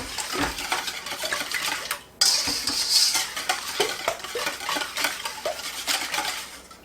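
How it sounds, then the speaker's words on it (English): A utensil scrapes and clinks briskly around a bowl as eggs are beaten for a lemon curd pound cake batter, a close, rhythmic stirring with one brief pause partway through. "What we're trying to do is get all of the eggs broken up."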